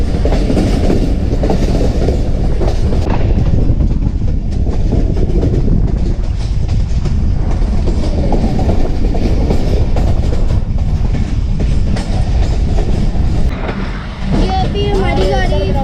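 A train pulls into Mandwala railway station, its broadband rumble and rail noise loud and steady throughout, with faint rattling, a brief dip near the end and a speaking voice over the running.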